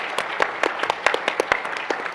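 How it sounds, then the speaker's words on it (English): Sparse applause from a research conference audience, a scattering of individual claps with irregular rhythm, moderately close, with no speech over it. "give yourselves and give everyone in Enroll HD a round of applause"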